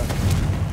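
Confringo blasting spell explosion in the Hogwarts Legacy video game, a brief deep booming burst with a rumbling low tail, loud and close.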